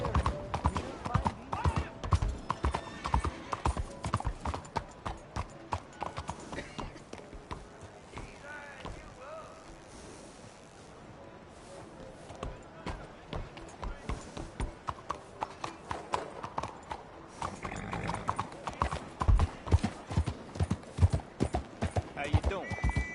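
Horse hooves clip-clop in a quick, uneven rhythm, close by, with a pause midway before the trotting resumes; voices are heard at times.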